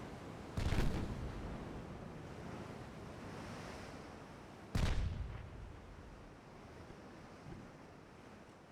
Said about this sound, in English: Six-inch guns can blap away in the meantime.